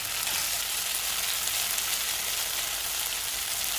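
Capsicum and chicken for dragon chicken heat in a pan over a high flame, giving a loud, continuous close sizzle with a fine crackling texture and no pauses.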